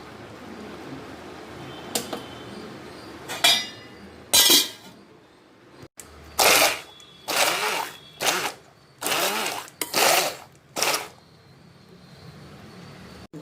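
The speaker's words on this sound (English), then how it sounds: "use a mixer to grind it" A kitchen mixer grinder pulses through cooked ragi (finger millet) in short, loud whirring bursts, about eight of them separated by brief pauses, with no talking.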